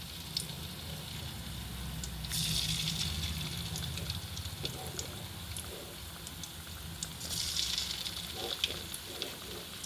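Beans bajji battered with a light coating of flour frying in hot oil, a steady close sizzle with brief louder crackling bursts as more pieces are slid in one at a time.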